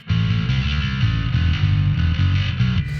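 Heavy distorted guitar riff played through a Valeton GP200 bass distortion pedal patch, with loud, thick chugging low notes in a steady rhythm that cuts off abruptly at the end, with no voices.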